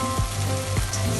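Kuey teow noodles with fish sauce and dark caramel charring in a hot wok, a loud continuous sizzle and crackle broken by a few quick stirring scrapes.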